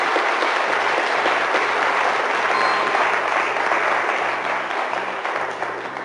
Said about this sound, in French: Applaudissements pour Bastien, quand même.